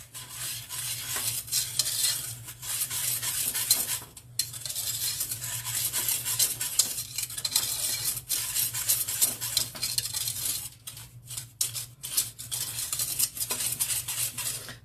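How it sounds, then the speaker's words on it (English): A flat whisk stirs dry ingredients for lemon meringue pie filling in a bowl, producing a steady, close scraping and rustling with light metallic clinks, continuous for the whole stretch with brief pauses. "So then we're going to stir all that together. I'm just using like this flat whisk."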